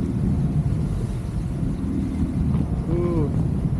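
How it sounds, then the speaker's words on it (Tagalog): Steady, strong wind buffets the microphone with a low, rough rumble while parasailing at Boracay, and a voice briefly calls out near the end. "Mahangin!"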